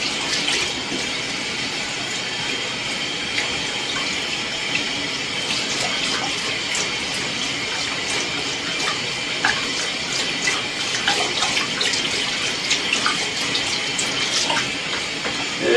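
A water sprayer rinses a screen printing screen, washing out the transferred stencil with a continuous hissing spray, dotted with small splatter clicks as the jet hits the mesh.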